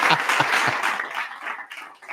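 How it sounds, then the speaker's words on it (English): Studio applause with a few sharp low thumps at the start, then a short burst of clapping that thins and fades within about two seconds. "Let's give FEMA a round of applause for having a personality."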